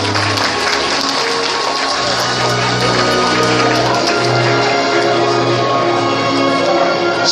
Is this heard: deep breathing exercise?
no